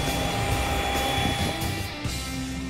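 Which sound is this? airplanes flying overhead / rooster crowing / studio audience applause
airplanes flying overhead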